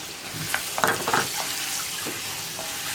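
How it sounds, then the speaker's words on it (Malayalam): Cut pieces of pappadam frying in hot coconut oil give a soft, continuous sizzle, with a few brief clinks and scrapes of stirring near the start. The whole sound is fairly quiet and close. "നമ്മൾ കട്ട് ചെയ്ത് വെച്ചിരിക്കുന്ന പപ്പടം കുറച്ചായിട്ട് ഇട്ടിട്ട് നമുക്കൊന്ന് വറുത്ത് കോരിയെടുക്കാം"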